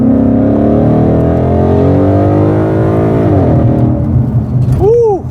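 A Ford Mustang GT revs hard as it accelerates through the gears, its loud engine note climbing steadily from inside the car, then easing off with a brief whoop before a squealing lift near the end.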